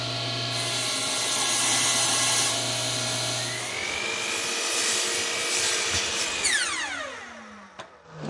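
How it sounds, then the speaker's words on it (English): A saw rips a narrow 1/8-inch strip off the rough factory edge of edge-banded particle board, running loud and steady with a dense whine for several seconds before spinning down to a stop. "I'm going to rip 1/8 of an inch off to accommodate that extra thickness here"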